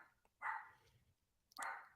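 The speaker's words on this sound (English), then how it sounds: "the dog's barking." A dog barks twice at a distance, two faint sharp yaps about a second apart, heard alone in a quiet indoor setting.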